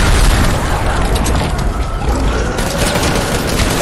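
Loud, dense gunfire and booming blasts in a PS4 shooter, a continuous roaring barrage filling the whole stretch without a break.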